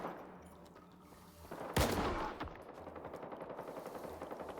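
Video game gunfire rings out as a sharp, loud burst followed by a rapid string of quieter, fast repeating shots, like an automatic weapon firing in short succession.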